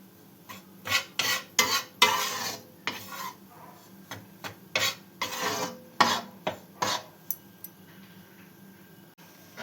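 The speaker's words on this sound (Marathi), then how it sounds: "तर बघू शकता आपलं बेसन आता भाजत आलेलं आहे" Gram flour (besan) roasting in a pan for laddu, scraped and stirred with a spatula in repeated rasping strokes, close and moderately loud, with no voices.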